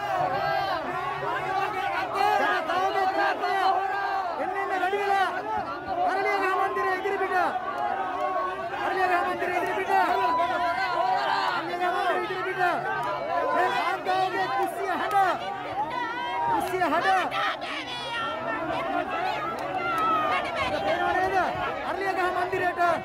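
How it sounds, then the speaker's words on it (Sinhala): A protest crowd outside the Temple Trees residence keeps up a dense, loud, continuous roar of many overlapping voices, shouting and chattering without a break. "අරලියගහ මන්දිරයට මේ දාන සද්දේ"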